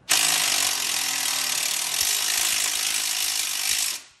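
A Snap-on ratchet clicks rapidly and continuously in a close, bright, dense rattle that lasts about four seconds, then stops, heard alone in a garage while work is done on a 2021 Polaris RZR Trail Ultimate.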